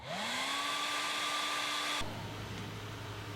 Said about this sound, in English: So I always hair dry it before setting it down.